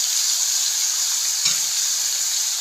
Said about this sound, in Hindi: अब इनको हल्का सा फ्राई करना है।